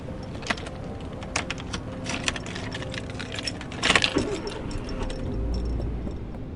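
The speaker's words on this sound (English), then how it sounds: "my bloody palm smearing the steering wheel as I fumbled the keys into the ignition" A car key fumbled into the ignition for a Gothic horror audio drama: close metallic jangling and scraping clicks in irregular bursts, with a louder clattering cluster near the middle and a low rumble toward the end.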